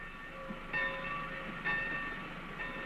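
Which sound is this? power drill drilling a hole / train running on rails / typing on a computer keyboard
train running on rails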